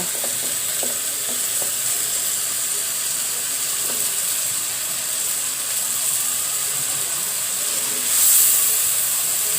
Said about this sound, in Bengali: এবার আমি আস্তা রসুনের কোয়া আমি দিয়ে দিব